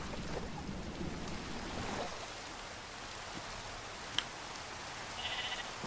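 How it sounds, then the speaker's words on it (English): Sheep in the video game Minecraft bleat over a watery background wash, with a brief sharp click partway through and a faint bleat-like sound near the end, with no talking. "I see sheep over there."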